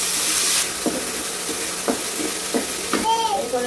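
Onion paste hits hot oil in a pan, giving a loud burst of sizzling, followed by a steady frying hiss with several spoon scrapes and stirs close by.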